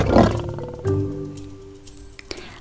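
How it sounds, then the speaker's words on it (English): A lion roars loudly and close, a long deep rumbling roar followed by a second quieter growling roar with faint background rustling. "I hear a lion roaring in my ear."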